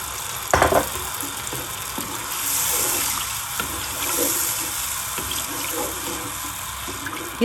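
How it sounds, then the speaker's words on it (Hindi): Water splashes and streams into a cooking pot of sautéed potato and rice for pulao, about four large glasses poured, with a steady, continuous pouring rush, a sharp splash at the start, no voices. "अब इसमें हम पानी शामिल करेंगे।"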